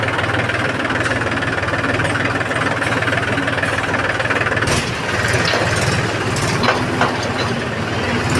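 A heavy engine drones steadily throughout, a loud, close low rumble with scattered clatter and knocks on top and no talking.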